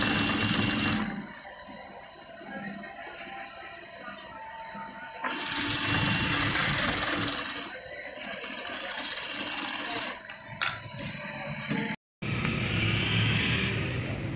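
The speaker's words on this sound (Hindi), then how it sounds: "ये वाइट के कपड़े के ऊपर ऊपर आपने सिलाई लगानी है" Sewing machine stitching a strip onto white fabric for a kurta, in several loud close bursts of rapid rattling separated by pauses, with a voice talking in between.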